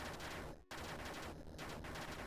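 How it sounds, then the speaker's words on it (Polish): Rapid bursts of explosions in a crafting video game, dense crackling blasts that fill the clip with one brief gap. "teraz są większe eksplozje."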